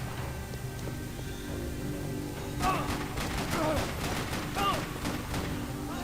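Gunfire in the Max Payne 3 shooter game sounds out as a run of sharp, moderately loud shots over a steady ambient hum, with a brief voice partly underneath.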